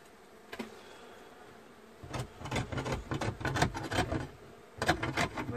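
Honeybees buzzing during a cutout of a beehive from a camper: a dense, close, wavering hum of many bees that grows louder partway through and keeps going, with no voices.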